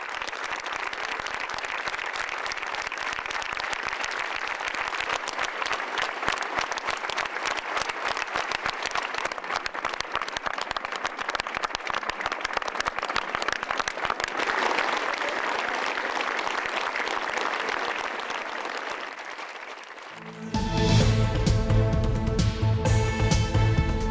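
A long, even wash of applause from a crowd keeps up steadily before cutting out near the end, where a different, tonal sound takes over.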